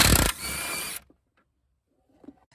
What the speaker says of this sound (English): I needed to use a ratchet with the E18